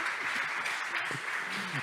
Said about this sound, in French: Est-ce qu'on applaudit Eva?